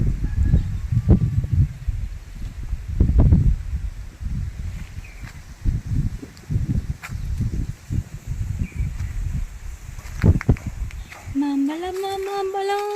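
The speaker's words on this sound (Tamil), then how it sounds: "காற்று நல்லா அடிக்குதுப்பா" Strong wind blows outdoors, buffeting close with heavy, irregular low rumbling gusts that rise and fall, before a short tonal sound appears near the end.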